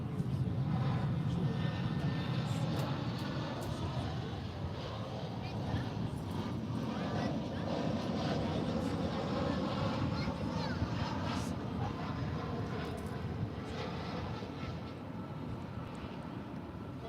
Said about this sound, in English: Next arrival, American Airlines Flight 1076 coming in from Monterey.